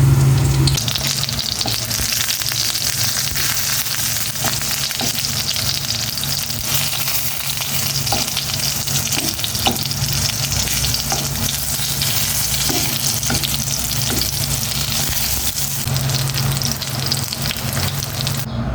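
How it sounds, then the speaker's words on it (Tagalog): Eggplant frying in oil in a home kitchen makes a loud, continuous sizzle close by, broken up by repeated clicks and scrapes of a spatula turning the pieces. "Tapusin ko munang iprito yung talong bago ko to igisa sa oyster sauce"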